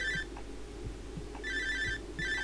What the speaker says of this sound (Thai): โทรศัพท์ใครดังวะ